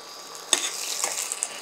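Large amla (Indian gooseberry) pieces, a handful of them, frying in a hot pan for a low-calorie curry: a steady close sizzle with a sharp crackling burst as they hit the oil and a second flare a moment later, with no voices.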